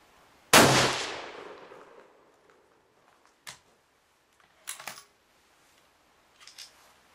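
A gunshot fired at a downrange target monitored by a target camera system: one loud, sharp crack with a decaying echo, then a few fainter clicks and knocks that follow at intervals.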